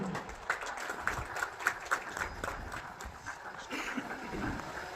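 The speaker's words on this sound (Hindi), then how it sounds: "लगातार और जोरदार तालियां होनी चाहिए इनकी हौसला अफजाई के लिए" Applause at a Jharkhand Police passing-out parade outdoors: a fairly quiet, uneven patter of many hands with a few sharper claps standing out, steady over a noisy open-air background with no clear talking.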